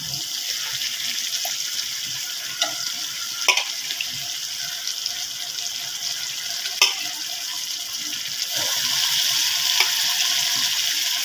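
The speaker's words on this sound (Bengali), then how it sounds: "এখন দিয়ে দিব এতে সেদ্ধ করে রাখা কলিজা টুকরো আর কিছুটা মাংস।" Boiled liver pieces and meat frying in a pot for kaleji bhuna make a loud, steady hiss like rushing water, broken by a few sharp utensil knocks, and the sizzle swells near the end; no talking.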